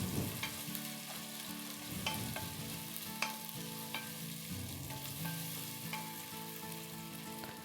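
Chopped tomato pieces being stirred into a sizzling pan of moong dal khichdi, a steady close fry with repeated spoon scrapes and taps against the pan.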